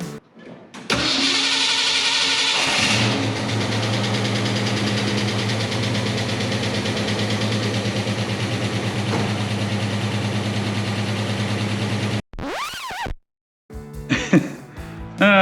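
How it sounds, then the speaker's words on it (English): A 1966 Ford Mustang engine cranks and fires up, then settles into a loud, steady idle close by, running on for about eleven seconds before cutting off, followed by a few brief clunks. "So let's start the engine and let this"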